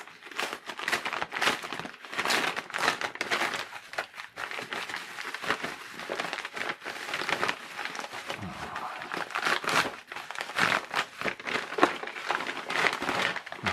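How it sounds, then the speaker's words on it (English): Cardboard box and packaging being opened by hand to reach an EvoDX action camera, a steady run of close crinkling, tearing and rustling with dense bursts throughout, no talk. "Let's see if we can open it without ripping everything apart."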